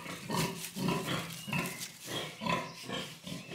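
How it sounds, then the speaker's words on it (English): Pigs grunt and oink close by in a run of rhythmic, repeated snorts, about one every half second, with no voices over them. "The pigs agree with me."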